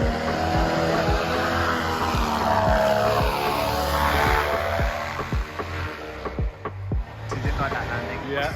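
The SkyCar flying car roars with a loud, steady engine and propeller buzz, close and sustained, its pitch sweeping around as it moves, with faint voices and a few rattling knocks toward the end.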